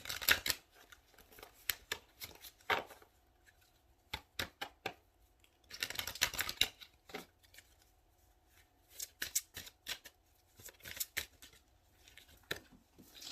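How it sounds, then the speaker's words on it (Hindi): Tarot cards are shuffled by hand in quiet, irregular clusters of soft riffling and tapping snaps, with short pauses between bursts, close but faint. "मैं इसको पहले अच्छे से शफल कर दूं"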